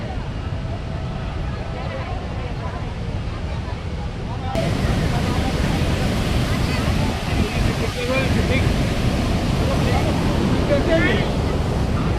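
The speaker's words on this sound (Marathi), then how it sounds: "नर्मदा नदीवरील धुवाधार धबधबे आपण बघत आहोत" A loud, continuous roar of rushing water from the Dhuandhar waterfall on the Narmada River fills the scene, with wind buffeting the microphone and a jump in intensity partway through.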